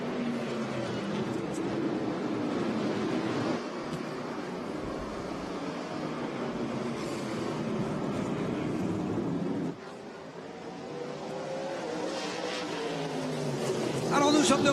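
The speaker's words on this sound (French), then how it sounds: "on relance la voiture côte à côte, Tagliani." Stock cars of the NASCAR Pinty's Series roar side by side on the restart at the Grand Prix Trois-Rivières street circuit, a loud, steady engine drone filling the scene under continuous commentary, with a brief dip before the noise swells again.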